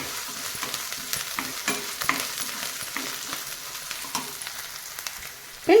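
Ginger garlic paste frying in a pan for a dhaba-style capsicum gravy makes a continuous sizzle broken by repeated spatula stirring scrapes, ending in a sharp clatter, with no voices.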